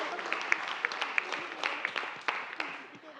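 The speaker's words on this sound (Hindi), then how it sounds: "एक बार जोरदार ताली हो जाए अय्यर जी के लिए यार." Applause at a press conference celebrating 17 years of Taarak Mehta Ka Ooltah Chashmah, a short burst of scattered hand claps from a modest crowd, fairly steady and fading slightly toward the end, with light chatter mixed in.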